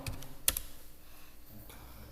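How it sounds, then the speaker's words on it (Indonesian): A few quick keystrokes tap on a computer keyboard while typing a web address, with one sharper click standing out among soft, close taps. "Kita ketikkan google.com."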